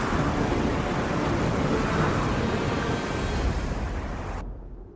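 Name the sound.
storm with thunder and rain, animated show effect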